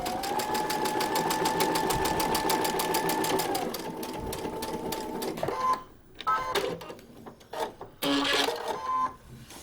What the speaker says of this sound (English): Start stitching outside of the seam allowance